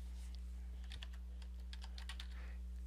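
Quiet clicks and taps from a computer keyboard come in short irregular bursts over a steady low electrical hum.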